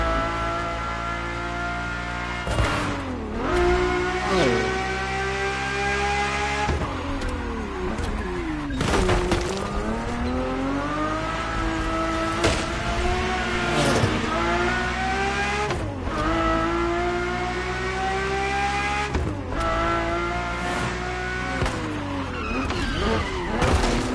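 Ferrari F40 and Ferrari F50 supercars driving hard in a racing video game, engines howling through repeated gear shifts with sharp pitch drops, mixed with tire squeal and skidding, loud and continuous.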